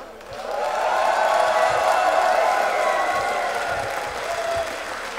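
A rock concert crowd at a December show in Speyer applauds and cheers, sustained clapping mixed with shouts and whistles swelling after a quieter start and holding loud before easing slightly at the end.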